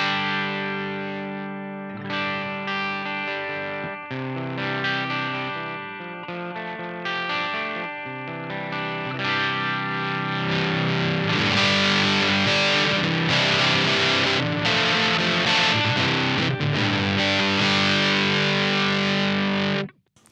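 Electric guitar played through a GH Systems pedalboard with distortion and chorus-like effects, heavy chordal riffing that grows denser and louder, sustained and continuous for about twenty seconds before cutting off abruptly.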